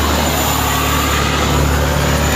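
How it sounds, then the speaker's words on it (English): A truck powered by a Cat C15 diesel engine labours up a hill, giving a steady, dense, loud engine roar with a deep low drone and no clear changes across the short stretch. "Cat C15 engine, isn't it?"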